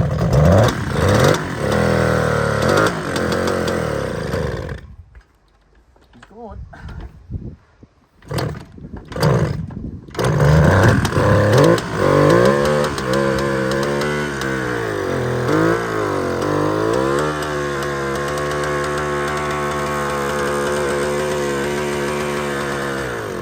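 A 1973 Kawasaki S2A two-stroke motorcycle, running a little flooded, roars loudly up close, dropping out briefly and sputtering before revving hard again and settling into a steady, buzzy idle.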